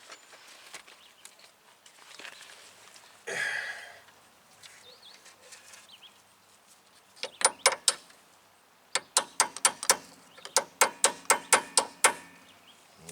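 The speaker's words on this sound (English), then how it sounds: "Let's see if I can get that socket on there a little bit better." A socket wrench works a stubborn bolt on a 1993 Jeep Cherokee's front end outdoors, giving bursts of quick, sharp ratchet clicks in rapid series near the mic, with some softer clunks and rustling between them.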